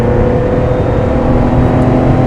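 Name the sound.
Porsche 911 Carrera engine revving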